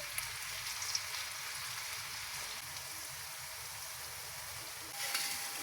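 Food fries in olive oil in a pan, giving a faint, steady sizzle and crackle with a few small pops, ending in a brief louder burst.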